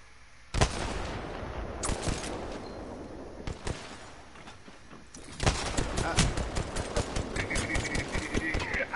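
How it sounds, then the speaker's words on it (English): Gunshots in Apex Legends Season 10, a few sharp single cracks early on, then a denser run of rapid shots in the second half, heard over steady game ambience with a player talking. "Why you shooting me, bro?"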